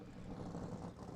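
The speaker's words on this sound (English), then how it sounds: "that's a stock car that started up, folks" A yellow 1998 NASCAR stock car, number 36, at the Loup 2 Loup race in Halsey, its engine rumbling steadily at a distance as a low, continuous drone.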